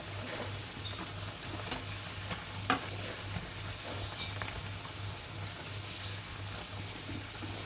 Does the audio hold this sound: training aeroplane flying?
no